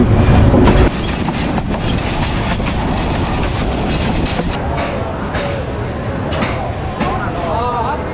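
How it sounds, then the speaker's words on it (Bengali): Tista Express passenger train running on rails, a loud continuous rumble with rhythmic clickety-clack of wheels over joints and faint squeals, heard from on board. "ট্রেনটা অলরেডি গফরগাঁও রেল স্টেশন থেকে"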